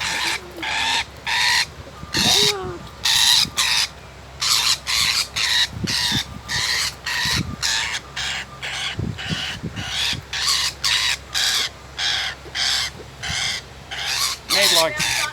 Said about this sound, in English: A bird stuck in here.